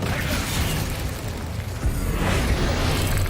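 Incendio fire spell from the video game Hogwarts Legacy: a rushing, roaring burst of flame that swells midway through steady, loud game ambience.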